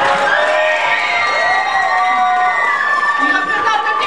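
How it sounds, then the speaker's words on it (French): A school audience cheers and applauds for returning student medal winners, a loud, sustained wash of whoops, shouts and clapping close by with excited voices throughout. "On les applaudit."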